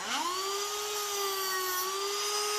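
A Dremel rotary tool grinding down a protruding O-ring, a steady high-pitched whine held at one pitch, close and loud with no talking.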